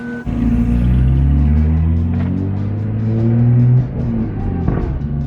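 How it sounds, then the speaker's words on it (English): BMW 335i accelerating hard from inside the cabin, its engine climbing loudly in steady revving sweeps with crackling exhaust backfires, then easing off near the end. "Oh, the backfires. The backfires."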